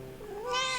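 A single short cat meow from Pathfinder: Wrath of the Righteous, close and clear, rising in pitch as it goes, with no other sound around it.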